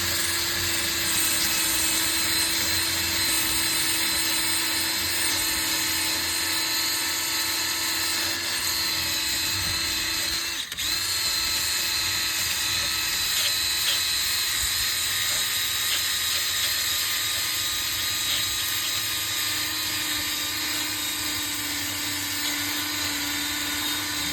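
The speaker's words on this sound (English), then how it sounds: "Just take a little bristle disc or something. Just give it a nice clean." A bristle disc on a power tool cleans the rust and debris off a rear brake rotor from a 2022 Volkswagen Taos FWD, giving a steady, loud, high-pitched whirring grind that runs unbroken with a brief dip midway.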